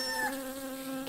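A bee buzzes close by in a cat's ear in a children's story, a steady, bright, nasal drone with strong even harmonics that holds for about a second.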